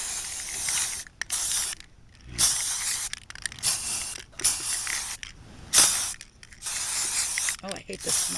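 Gold glitter spray paint hisses from an aerosol can in a series of short, loud bursts separated by brief pauses, with faint rattling and handling noises between sprays.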